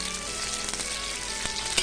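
Garlic and green chilli sizzling in hot oil on a tava, a steady dense hiss with a few light clicks of stirring near the end, no voices.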